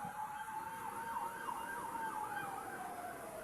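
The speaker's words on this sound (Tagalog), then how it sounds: "Ingay ng mga pulis." A wailing police siren rises and falls repeatedly at a moderate distance over a steady background hum of traffic.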